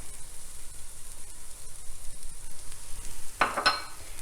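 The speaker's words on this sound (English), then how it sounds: "So now we are going to add the lentils. We're gonna add the corn. We're gonna add the spices." Lentils, corn and spices tipped into a soup pot of cooked vegetables, a soft continuous sizzle with one short burst of rattling and splashing near the end.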